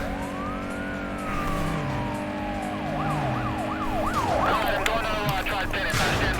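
Police car siren in the Need for Speed Most Wanted racing game, first a long rising and falling wail, then a fast yelping warble, loud and close over a steady engine and road rumble.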